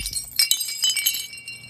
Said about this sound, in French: Ce bruit ressemblait beaucoup au son que fait un ustensile de cuisine quand il tombe.